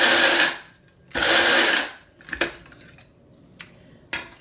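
Small grinder pulsing nuts and seeds for dukkah, two loud whirring bursts of about a second each, followed by a few sharp knocks and rattles of the lid and container, close by.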